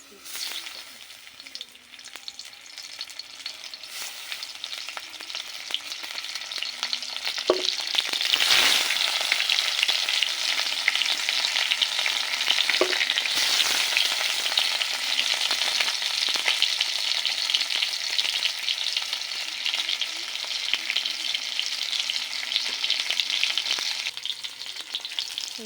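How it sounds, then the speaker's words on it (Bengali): Fish sizzles steadily in hot oil in a kadai, a dense continuous crackle that swells partway through and stays loud and close, with no speech over it. "মাছগুলো একে একে করে ভাজে নেবে নিয়েও তেল দিয়ে দিয়েছি"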